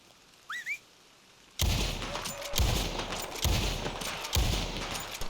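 Video-game gunfire: a rapid burst of loud shots and rattling bursts with sharp cracks at a steady pace, close and harsh, preceded by a brief rising whistle over a quiet background.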